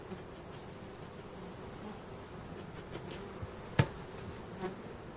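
Steady, low insect hum of many honey bees droning together in a hive, close and continuous, with a brief sharp knock partway through.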